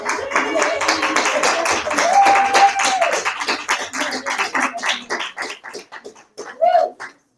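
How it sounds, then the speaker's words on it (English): Applause and scattered clapping from a gathered group, with voices and cheers mixed in, fading into separate claps toward the end. "So let's give them a big round of applause."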